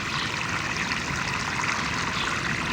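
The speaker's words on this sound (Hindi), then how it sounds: "तो शावर की मदद से पानी दे लेंगे।" Water sprays from a shower-head hose onto a freshly planted date palm in the ground, a steady, close hiss of falling water that runs unbroken throughout with no voices.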